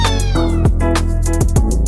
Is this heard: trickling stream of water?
no